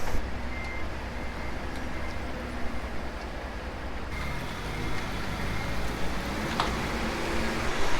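A truck arrives and reverses in a video game, a steady, loud engine rumble and road drone running throughout, with a thin tonal beep faintly layered on top.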